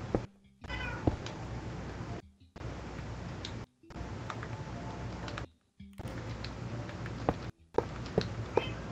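Meowing from an Xbox Minecraft game's cat sounds plays in repeated bursts with short silent gaps between them, loud and close, with no talking over it.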